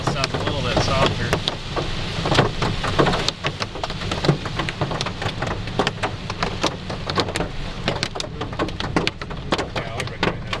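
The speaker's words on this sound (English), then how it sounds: "That hail sounds a little bit softer." Hailstorm in Texas, dense hailstones and rain drumming hard and fast on surfaces, with sharp individual impacts cracking through a continuous loud wash; low rumbling underneath.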